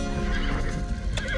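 A horse neighs close by in a long, wavering whinny, with a sharper rising squeal near the end, over a busy outdoor background.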